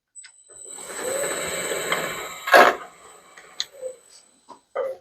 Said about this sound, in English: we turn our lathe on, make a tiny nick, and see if it nicks all four corners